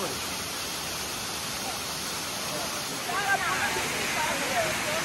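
Hickory Nut Falls pours with a constant broadband rush of falling water, steady and enveloping. Faint voices rise over it in the second half.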